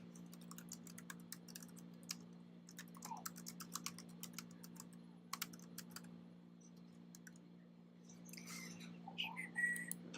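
Quiet, irregular clicking of keys on a malfunctioning computer keyboard, with a steady low hum underneath and some faint chirpy noises near the end.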